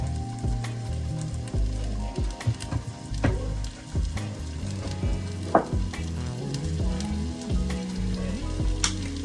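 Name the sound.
vegetables and seasoning sautéing in olive oil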